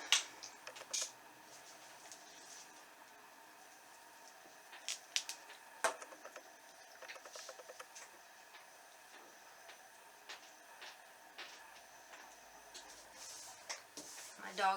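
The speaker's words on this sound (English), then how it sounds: "her tag is clicking against the wood floor. That's what that clicking noise is." A dog's tag clicks against a wood floor while the dog licks its paws, giving faint irregular clicks and small bursts in a quiet indoor room.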